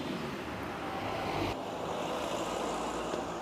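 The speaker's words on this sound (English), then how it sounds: "just going to wait for the car noise" A car passes by outdoors with a steady, rushing roar of engine and tyre noise, fairly loud and close throughout this brief stretch, with no voices over it.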